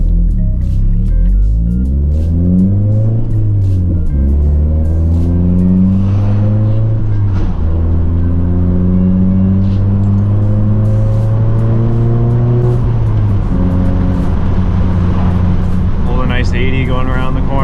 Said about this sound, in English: Go ahead and take it for a test drive.